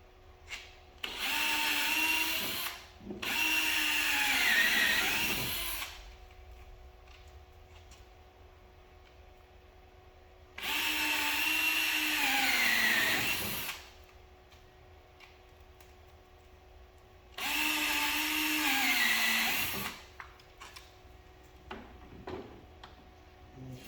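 Power drill boring a 3/4 inch hole for turn signal lights on a Polaris Ranger XP 1000, three separate whining bursts of several seconds each with quiet gaps between, close and moderately loud.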